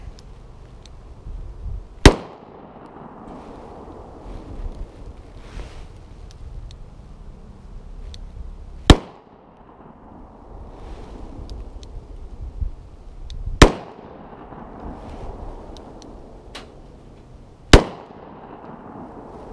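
A Smith & Wesson Governor revolver fires four shots, each a sharp loud crack spaced several seconds apart, with low outdoor rumble and faint movement between them.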